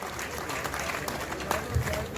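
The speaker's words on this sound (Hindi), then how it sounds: "आप तालियां बजाते रहिए" Audience clapping fills the hall at a live Sham-e-Sangeet music show, a dense steady patter with a voice speaking over it.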